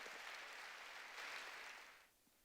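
A church congregation claps during a Korean sermon, a steady wash of applause from the whole hall that holds for about two seconds, then fades quickly to quiet.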